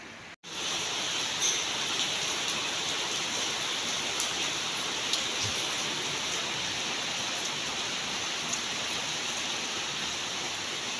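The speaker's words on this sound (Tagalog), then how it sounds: "Yan, malakas ng ulan." Steady, dense hiss of heavy rain falling without a break, with a few faint drips and taps standing out now and then.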